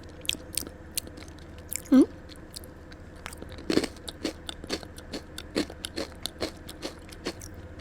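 Chewing a strawberry protein ball up close, with soft crunchy bites and steady moist mastication clicks repeating at an even pace in a quiet room.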